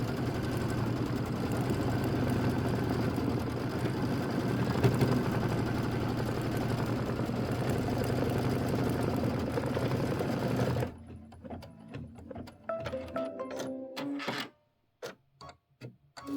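An embroidery machine stitching a decorative pattern on a snow-themed hot pad, a fast steady mechanical whir and needle chatter for about eleven seconds, then stopping into scattered clicks and small mechanical taps.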